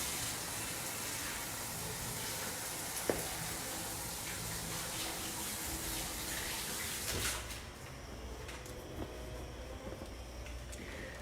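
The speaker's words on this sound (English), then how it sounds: "Let me wash my hands" Water runs steadily from a kitchen tap during handwashing, a constant close rushing hiss with a brief knock and a shift in flow near the end.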